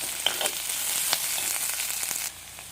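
Onion and green chilli sizzle steadily in hot oil for a Tamil fish kulambu, a close, bright crackle with small pops throughout before dropping softer near the end.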